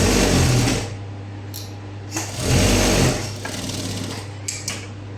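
A sewing machine running a straight stitch along a blouse sleeve, stitching in several close, whirring bursts with short pauses and small clicks between them.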